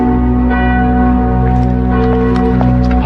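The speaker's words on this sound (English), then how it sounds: "It's the passing bell." A church passing bell rings loudly and close, its deep, sustained tone humming continuously and swelling without pause throughout.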